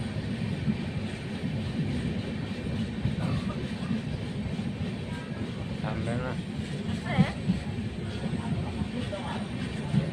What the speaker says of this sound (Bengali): ট্রেনটা রাইট টাইমে ছেড়ে দিয়েছে